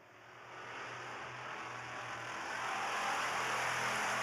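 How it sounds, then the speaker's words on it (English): Pure stock race cars roar around a dirt track during a heat race, engines heard at a distance as a steady broadband rumble that swells louder as the pack nears. "Yetman's 1K, following his uncle Rod, who is leading this race in the car 33."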